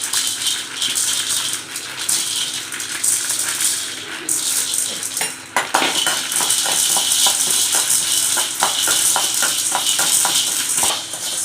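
Roasted spices and pepper are stirred in a pan, giving a close, dry rattling and scraping with rapid clattering strokes and a soft sizzle underneath.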